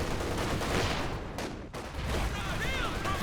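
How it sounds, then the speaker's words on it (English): Flame barrage artillery landing in Company of Heroes 2, a dense roaring wash of fire and impacts with a brief dip midway, under a commentator's voice. "Oh, now they flame barrage."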